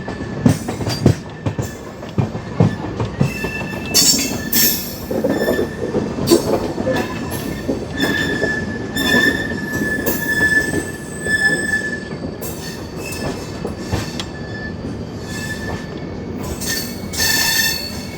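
A Garib Rath express running on rails near Faridabad makes a loud, continuous rumble with repeated high wheel squeals and clattering bursts, close by and with no talk.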